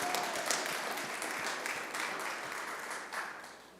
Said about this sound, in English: Yeah, clap. That'd be great.